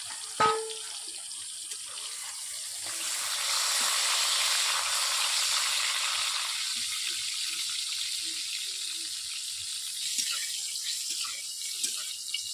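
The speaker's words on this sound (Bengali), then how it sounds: "হালকা আঁচে ভাজবো পটলগুলোকে।" Pointed gourd frying in oil on low heat for a stuffed gourd dish: a steady, close sizzling hiss that swells in the middle and then settles into a softer, continuous crackle, with no voices.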